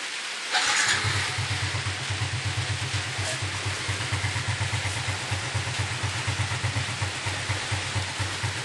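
A Suzuki Smash motorcycle engine fitted with a Shogun 125 piston-type carburetor starts and settles into a loud, steady, close idle with an even pulsing beat, no voices.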